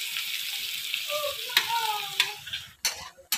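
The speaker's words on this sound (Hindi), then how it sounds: "तेल बहुत गर्म हो चुका है, फिर उसके बाद मैंने प्याज डाला है" Onion and green chillies sizzle and crackle steadily in very hot oil for pasta, with a few sharp clinks of stirring punctuating the hiss.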